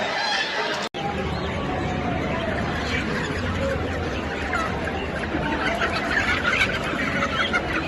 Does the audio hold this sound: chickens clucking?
yes